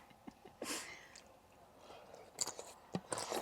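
Close, quiet crunching bites and chewing of tortilla strips, a few sharp crisp snaps among soft mouth sounds, with no speech.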